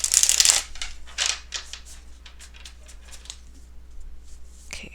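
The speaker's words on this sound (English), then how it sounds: "let me actually give them a good shuffle first" A deck of affirmation cards is shuffled by hand: a loud riffling burst at the start followed by quieter intermittent card flicks and slides, close and alone.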